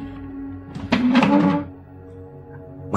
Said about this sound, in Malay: saya ni daripada dengar bunyi tung-tung, macam ada orang ketuk-ketuk